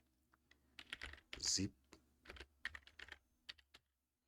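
Typing on a computer keyboard to enter a search into a web browser: a close run of quick, uneven key clicks in short bursts, with no talking.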